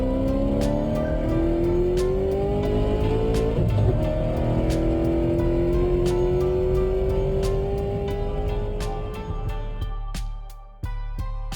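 Small RC model race cars whine around a track on the final lap, their high-pitched motors rising and sweeping as they pass close by, with sharp clicks and ticks scattered throughout.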